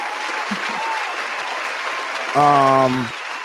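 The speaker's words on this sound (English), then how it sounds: "round of applause to everybody that's been rocking with us for this" An audience gives a round of applause, a dense, even patter of many hands that holds steady throughout; a single voice speaks briefly near the end.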